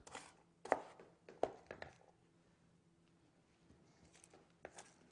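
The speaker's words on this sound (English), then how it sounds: "Get this nice and chopped up." A knife chops food on a cutting board in sharp, irregular strikes, a few loud close knocks followed by softer, quieter taps.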